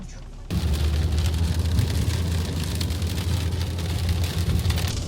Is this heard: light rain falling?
yes